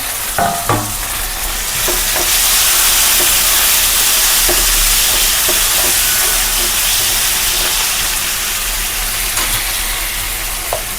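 Tomatoes poured into a pan of fried onions set off a loud, steady sizzle and hiss, with a few clattering stirs and knocks early on and near the end as the mushroom curry base cooks.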